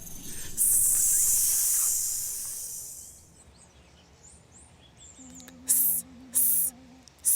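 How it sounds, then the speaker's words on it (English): A snake's hiss rises loud and sustained for a couple of seconds before fading, followed by quieter rustling and a few short bright electronic chimes. "Snake!"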